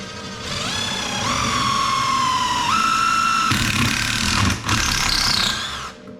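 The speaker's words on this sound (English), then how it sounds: "I'm now going to pocket hole these into these." Pocket holes drilled into wood for a dog gate: a high, steady whine from the drill motor runs almost continuously for about six seconds, stepping up in pitch partway through, then cutting off near the end.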